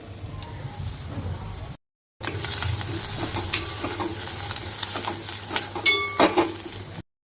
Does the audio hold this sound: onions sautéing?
yes